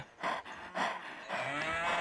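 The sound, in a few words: cow mooing in the video game Survivalcraft 2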